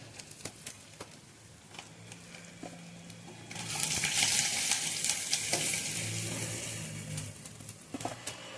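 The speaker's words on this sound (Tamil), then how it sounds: "மீன் பொரிச்சாச்சு." Salai meen fish fries in a pan, sizzling steadily and growing louder and denser partway through, with light pops and crackles in a quiet kitchen.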